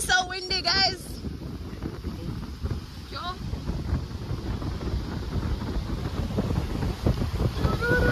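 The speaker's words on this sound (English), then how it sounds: "It is so windy, guys." Strong coastal wind buffets the microphone with steady low rumbling gusts, while a voice speaks briefly at the start and again faintly later.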